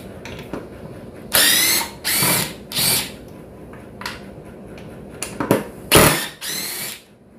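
A yellow DeWalt DCF850 impact driver runs at speed setting 2, giving several loud, separate bursts of high-pitched whirring and hammering, each lasting roughly half a second, with quieter mechanical handling noise between them.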